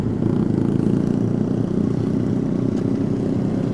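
A Honda Supra motorcycle, stock and not bored up or ported, revs hard in an attempt at a wheelie, giving a steady loud buzzing engine drone close by with no talk over it.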